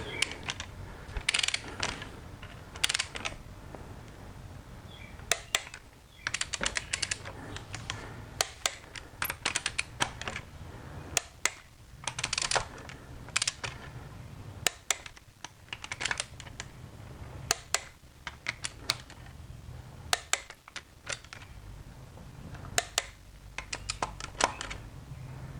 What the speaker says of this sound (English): Torque these lug nuts. I use 90 pounds.